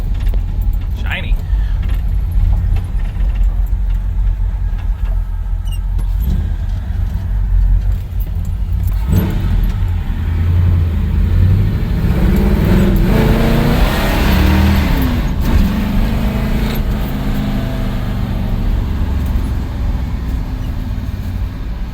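A 1964 Plymouth Fury with a freshly swapped carburetor and front-end repairs, its engine running loud and close on a test drive, rising and revving midway amid road and cabin noise.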